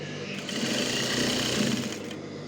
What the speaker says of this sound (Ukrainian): Таким самим способом прокладаємо ще одну строчку вверху, фіксуючи при цьому резинку.